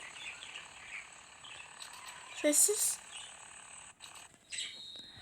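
Birds chirp outdoors where someone is about to play football, with a faint steady insect-like trill and a brief bright burst of chirps near the middle while someone speaks.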